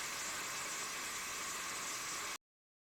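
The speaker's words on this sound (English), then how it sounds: "Blend everything together, which should take about 3 to 4 minutes." A blender whirrs steadily through Caribbean peanut punch ingredients, a close, even motor hiss lasting a couple of seconds before cutting off abruptly into silence.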